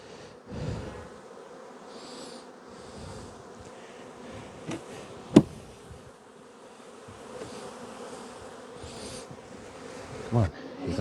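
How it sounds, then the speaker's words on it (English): Bees swarm and buzz continuously around a hive box of honeybees being smoked during a honey flow shakedown, a steady dense drone with a few brief knocks and thumps nearby. "Now I've got a box of bees here"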